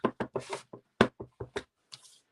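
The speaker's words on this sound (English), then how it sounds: "And I'm going to stamp" A rubber stamp pressed and tapped onto card during card making, producing a string of close, sharp knocks and taps in irregular bursts, with a quieter brushing sound at the end.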